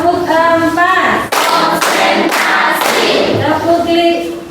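Students in a classroom clap game strike their hands in short rhythmic bursts between spoken counting chants, the claps loud and close.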